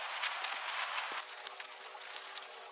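A crackly, crispy noise texture from an industrial techno track, a dense bright hiss sprinkled with quick sharp crackles and pops, steady and fairly loud throughout with no voices.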